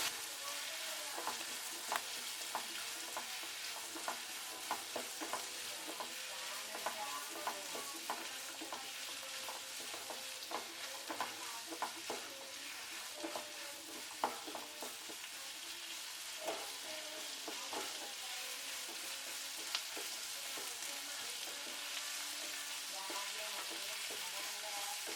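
Chopped garlic sizzles in a pan with frying onions for a dhaba-style omelette curry, a steady crackling fry with frequent scrapes and clicks of a stirring spoon, close and continuous throughout.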